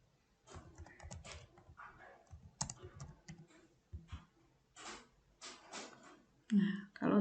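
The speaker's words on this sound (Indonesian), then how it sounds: "kemudian kita langsung ketik saja" Keys clatter on a computer keyboard as text is typed into Microsoft Word 2019, irregular bursts of clicks with brief pauses, close and moderately loud, a voice speaking in between.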